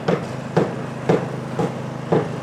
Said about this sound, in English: A lot of hammering going on.